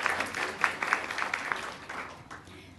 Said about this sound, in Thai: ขอเสียงปรบมือต้อนรับท่านด้วยค่ะ